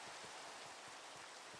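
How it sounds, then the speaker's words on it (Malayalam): Steady rain in the video game Minecraft hisses as a constant, even wash of falling drops, faint and alone, with no voices. "മഴ മഴ വെറും മഴ മഴ."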